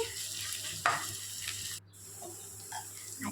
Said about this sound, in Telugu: ఆనియన్ కొంచెం వేగిన తర్వాత అల్లం వెల్లుల్లి పేస్ట్ వేసేసుకోవాలన్నమాట.